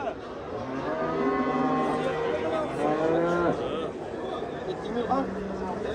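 A cow moos in long drawn-out calls at a Bostanliq district cattle market, loud and near, with a second lowing call later and a crowd of voices talking around it.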